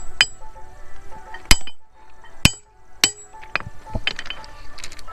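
Railway keyman hammering a track fastening tight with a lever, several loud sharp metallic clanks spaced unevenly, ringing out over outdoor background noise with lighter clinks between.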